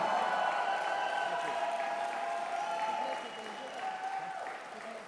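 An audience at a Lithuanian presidential candidate's campaign presentation claps in a sustained ovation, a dense even wash of many hands that eases slightly toward the end, with a voice carrying over it.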